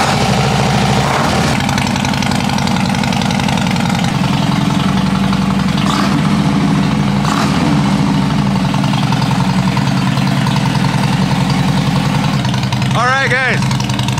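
A motorcycle idles in neutral as it warms up before an oil drain, running on old gas; the engine holds a steady, close, even rumble throughout, with a brief higher chirping sound near the end.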